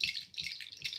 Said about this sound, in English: I believe this is an African rattle.